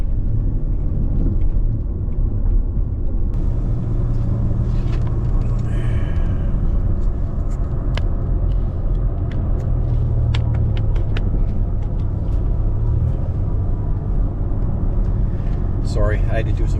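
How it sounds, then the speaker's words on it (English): A Dodge Caravan minivan drives along the road with a steady, loud low rumble of engine and road noise throughout, plus scattered ticks and small knocks inside the cabin. "I'm just driving here."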